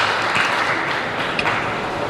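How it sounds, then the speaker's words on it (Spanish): A church congregation breaks into steady, dense applause to welcome a speaker, a continuous wash of clapping at moderate volume with no voices on top. "Vamos a recibir a Luis Enrique con un aplauso"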